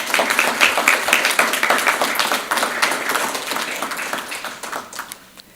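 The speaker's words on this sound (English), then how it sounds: "Please join me in a round of applause for their efforts." Steady round of applause from the audience at an evening induction ceremony, dense overlapping claps that hold for several seconds and then taper off.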